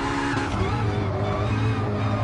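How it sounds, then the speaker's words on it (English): Chassis and tire noise from an electric Vision Gran Turismo race car in Gran Turismo Sport, a loud continuous rumbling roll with faint squealing and a steady electric whine, no voices. "I love the sounds of the chassis in that game."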